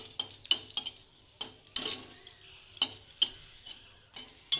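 Two dried red chillies fry in a pan that was just used for small fish, with faint sizzling under a series of sharp metallic clinks and scrapes from a utensil striking the pan.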